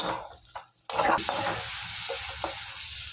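Two eggs stirred and fried in oil in a pan for egg chutney: a brief soft stir, then a sudden loud sizzle that holds steady and close while faint scraping continues underneath, no voices.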